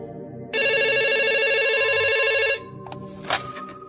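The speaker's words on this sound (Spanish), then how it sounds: "Cuando era niño me encantaba levantar el teléfono de la casa cada vez que sonaba" A home telephone rings with one loud, continuous electronic trill lasting about two seconds, then stops, leaving faint room noise and a brief clatter.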